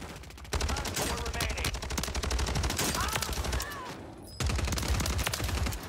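Rapid automatic bursts from an STB 556 assault rifle in the video game Warzone 3, loud and close, firing in sustained strings with a brief gap before a final burst.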